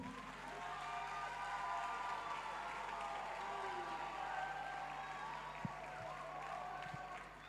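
A congregation at a church service gives faint, sustained applause that sounds distant and continuous, with a low steady hum under it and a couple of brief knocks.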